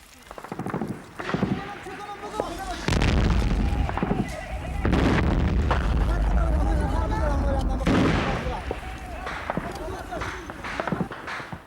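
Gunfire and heavy booms in a war in 1980s Afghanistan, loud repeated shots and blasts over a sustained roar, with voices shouting and chanting throughout.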